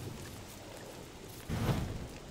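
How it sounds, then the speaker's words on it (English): Steady rain falls in the video game Don't Starve Together, a continuous hiss of downpour that swells louder for the last second, with no talking. "This rain is driving me crazy."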